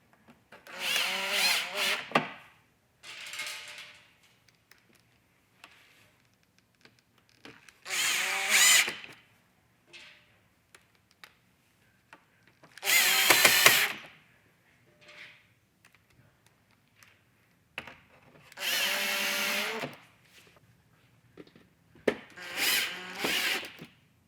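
A power drill drives screws while a light kit is fitted to a Club Car DS golf cart, running in five or six short whirring bursts separated by quiet gaps, close by and with no talk over it.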